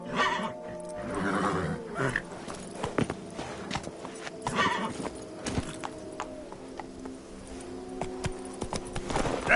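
Video game horse Roach from The Witcher 3 trotting, with clip-clopping hooves close by over an ambient game background, brief whinny-like tones at moments.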